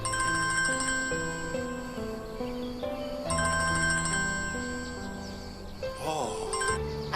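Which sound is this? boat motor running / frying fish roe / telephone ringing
telephone ringing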